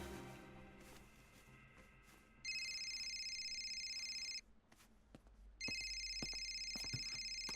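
A telephone rings with two long electronic bursts separated by a short pause, loud and close indoors, over a quiet background with faint clicks, in a police drama.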